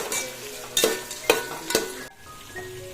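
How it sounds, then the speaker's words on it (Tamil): Onions and green chillies sizzle in a pan while a spoon scrapes and stirs four times in a quick rhythm, close and clear. "வெங்காய பச்சை மிளகா நல்லா வதங்கட்டும்"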